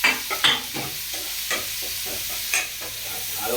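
Ginger and garlic stirred in a pan for Tamil tamarind curry (puli kuzhambu), with a spoon scraping in several sharp strokes over a steady background sizzle.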